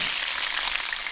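Fish frying in hot oil for a brown stew, a steady close hiss of dense sizzling crackle filling the whole moment with no voices.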